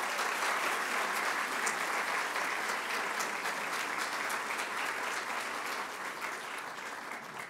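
Audience applause at a youth awards ceremony, sustained many-handed clapping that stays loud and continuous throughout, fading only a little toward the close.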